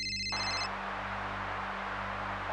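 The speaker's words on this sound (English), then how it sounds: "that's when the phone rings again" A telephone rings with a short electronic tone at the start, then a steady low hum continues alone for a couple of seconds.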